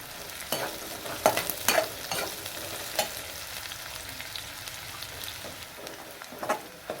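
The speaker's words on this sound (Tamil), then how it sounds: "ஸோ வெங்காயம் வதங்கும்போது பார்த்திங்கன்னா ஒரு மூணு நாலு பச்சை மிளகாய் கட் பண்ணி வச்சுருந்தோம் அதையும் இதில் சேர்த்துடலாம்" Onions and green chillies frying in a pan for a Madurai-style chicken curry, a continuous close sizzle broken by repeated scraping stirs and clatters of the spoon, with no one talking.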